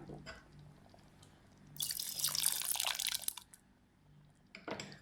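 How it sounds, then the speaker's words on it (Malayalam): Soaked tamarind squeezed by hand and its water poured into a pot of hotel-style tiffin sambar, a close splashing trickle of liquid lasting about two seconds, then a short wet squelch; no talking. "ഇനി ഇതിലേക്ക് നമ്മൾ വെള്ളത്തിലിട്ട് വെച്ചിട്ടുള്ള പുളി പിഴിഞ്ഞ് അതുകൂടി ചേർത്ത് കൊടുക്കാം"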